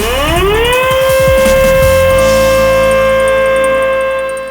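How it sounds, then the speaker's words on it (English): A loud emergency evacuation siren winds up from a low pitch to a sustained, steady wail, holding continuously and close before easing slightly at the end. "the emergency alarm will sound"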